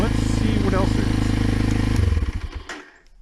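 A Kawasaki KLX dual-sport motorcycle engine runs loud and close with a steady, throbbing idle, then sputters and winds down to quiet over the last second.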